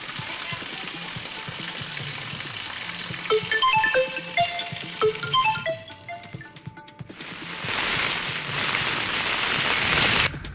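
Heavy monsoon rain pours steadily in Nandurbar, hissing loudly, interrupted midway by a brief run of chiming tones before the downpour returns even stronger.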